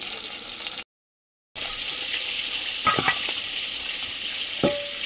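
Fish frying in a pan gives a steady, fairly loud sizzle, cut by a brief gap of silence, with a few clinks and scrapes of stirring near the end.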